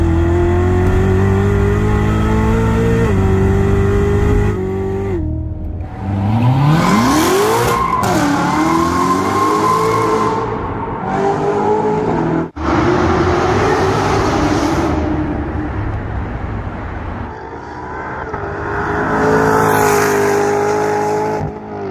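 A Corvette Z06 sports car accelerating hard, engine revving loud and close through rising gear pulls with brief shift breaks, tires squealing and a roaring pass that swells again toward the end.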